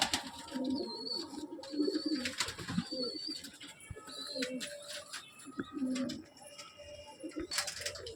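Loft pigeons, including a breeder bird, coo steadily in low, burbling phrases that rise and fall in several clusters, near and moderately loud, with light chirps from other birds around them.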